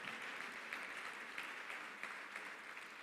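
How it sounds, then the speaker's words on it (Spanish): A church congregation applauds for the Lord during a sermon, a steady wash of clapping from many hands with no pauses, moderately distant and soft. "Denle un fuerte aplauso al Señor."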